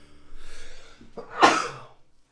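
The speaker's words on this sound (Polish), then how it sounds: "chyba będę musiał kichnąć." A single sneeze, preceded by a breathy inhale that builds up before the loud burst and fades quickly to silence.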